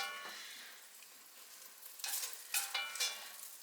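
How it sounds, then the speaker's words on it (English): Vegetables sauté in bacon grease with a quiet, low hiss that swells into brighter bursts of sizzling and stirring scrapes toward the end, close but fairly soft, no talking. "I'm going to cook my vegetables in this grease here"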